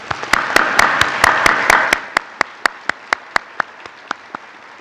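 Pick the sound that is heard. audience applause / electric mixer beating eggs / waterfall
audience applause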